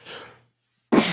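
A single sharp sneeze bursts out loudly and close after a brief silence, preceded by a softer breathy intake.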